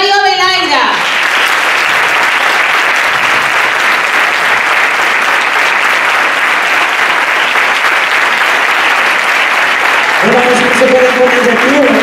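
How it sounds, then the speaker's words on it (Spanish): Loud, sustained audience applause at a copla show, dense clapping filling the whole stretch, with a voice audible at the start and again at the end. "Estamos con el cansado de ese fuerte aplauso a estos artistas."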